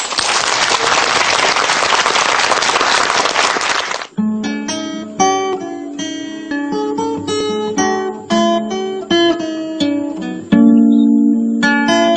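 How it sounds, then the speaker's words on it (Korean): An audience gives a dense burst of applause for about four seconds at a gathering before a grandson plays guitar. It cuts off sharply into clear, loud guitar playing for the rest of the clip. "박수를 청해 보겠습니다"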